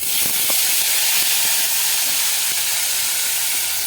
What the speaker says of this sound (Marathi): आता आपल्याला बटाट्याच्या केलेल्या काचऱ्याही घालायच्या आहेत